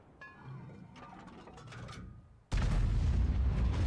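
Mechanical clanks and rattling build quietly as a Lorraine 155 51 artillery gun reloads in the video game World of Tanks, then a sudden loud blast erupts and leaves a sustained roaring rumble to the end.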